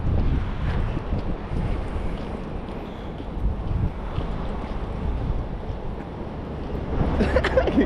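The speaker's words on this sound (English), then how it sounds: "look guys, all you're gonna hear is the wind." Steady wind rushes across an outdoor spot in Tokyo, a broad continuous roar with gusty buffeting on the microphone, rising slightly near the end, with no other clear sounds.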